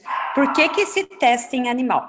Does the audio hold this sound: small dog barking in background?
yes